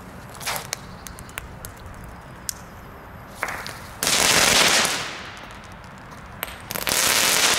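Sharp category 1 firecracker bangs pop irregularly in a residential neighborhood, followed by two bursts of dense crackling that hiss and rattle loudly for a second or more each.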